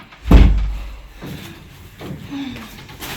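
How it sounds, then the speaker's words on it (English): A door thuds shut once, close and loud, and a couple of softer knocks follow, as if it is being locked. "Come lock the door."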